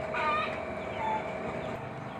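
Texas chickens cluck close by in a yard after heavy rain and flooding, soft calls over a steady background hiss.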